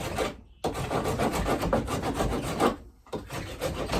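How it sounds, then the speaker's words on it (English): A rasp files wood on an axe handle with steady, close, scratchy strokes in a fast rhythm, pausing briefly twice. "Just gradually remove some with this rasp."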